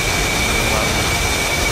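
Jet engines roar steadily and loudly on an airfield in the flight simulator DCS, a continuous high-powered rush with a thin whine on top, from a formation of F-15, Su-33 and MiG-21 fighters.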